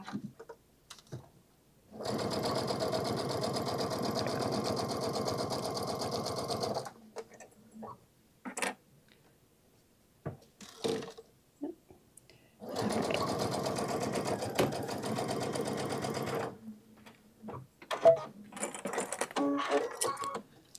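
A sewing machine stitches a bag in two long, steady rapid bursts separated by quiet stretches with small handling clicks and rustles.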